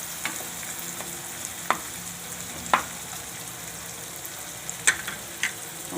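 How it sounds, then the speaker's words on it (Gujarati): Tomatoes frying with salt and turmeric in a pan while being stirred, a steady soft sizzle with occasional sharp clicks of a spoon against the pan, no talking. "ઘડીક આપણે ટમેટાને શેળવી લેવું સરસ."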